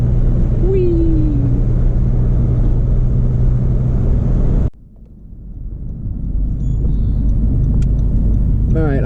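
A modified 10th Gen Honda Civic Si with a loud turbo drives hard, its engine roaring close and steady before cutting abruptly to near silence, then swelling back up as it pulls again.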